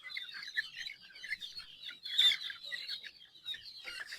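Pet chicks and chickens at a game farm cluck and peep steadily at close range, a busy layered chatter of small calls with one louder burst midway.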